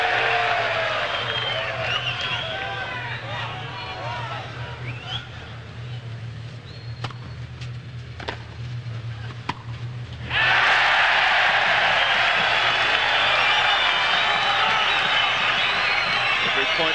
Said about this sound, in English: The crowd just is deafening.